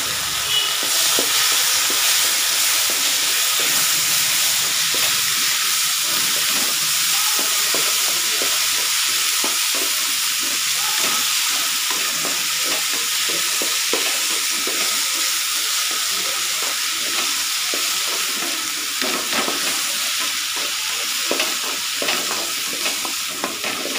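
Six chopped tomatoes frying in a pan while being stirred, a loud steady sizzle broken by repeated scraping strokes of a spoon throughout, no talk.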